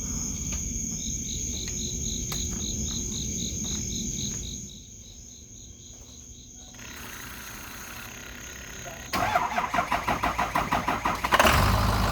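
A Ford PowerStroke 6.0 diesel engine on a truck under repair cranks over and fires up, its starter whirring in a steady rapid chatter before the engine catches with a louder burst. Crickets chirp throughout, with a faint hum.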